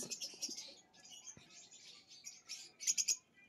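Small mutation lovebirds chirp in quick high bursts, with a louder cluster of sharp tweets near the end, against a quiet background.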